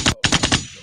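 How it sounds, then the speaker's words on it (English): Gunshot sound effect fired as a rapid volley of about five loud, punchy blasts in under a second, close and sharp with a quick decay and no talk over it. "hit the gunshot for that"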